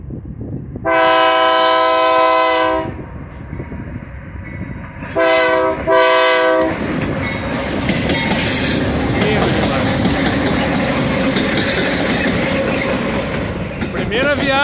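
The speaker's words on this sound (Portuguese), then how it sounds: "Primeira viagem da locomotiva Dash 9037, líder no trem de celulose." Horn blasts from a Dash 9037 diesel locomotive leading a cellulose freight train, two long loud sounds with a short pair after, then the steady rumble and clatter of the passing train close by.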